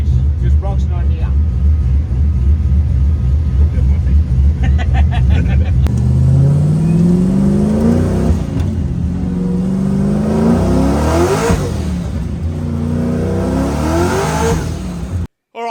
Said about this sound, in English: so now we're going for a ride in Chris's drift car